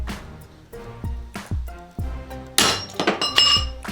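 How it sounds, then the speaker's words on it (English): A hammer strikes the gear shifter of a 2006-2012 Mitsubishi Eclipse to knock off a plastic piece. There is a series of sharp clinking and thunking impacts, several in a row and then a busier cluster of ringing hits. "You're just going to give it one good hit, and the shifter will drop"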